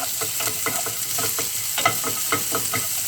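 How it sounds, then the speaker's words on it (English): Onions stir-fry with browned bacon in a pan for pineapple fried rice, a continuous close sizzle with a quick, regular series of spatula scrapes and taps, no voices. "So I'm going to add in the onions, and let's stir fry for a few"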